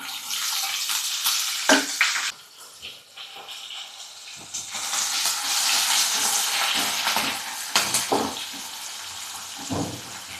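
Cumin, mustard seeds, slit green chillies and onion fry in a pan for an aloo rice lunch box, giving a steady close sizzle with short bursts of clatter as pieces are added and stirred.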